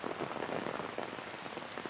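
Steady rain falls in an empty, famous park, a dense even patter of drops on surfaces that continues without pause.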